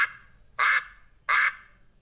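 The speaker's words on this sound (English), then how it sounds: "Yes, this is the sound of a duck." A duck gives two distinct, evenly spaced quacks, loud and close, with quiet pauses around them and no talking.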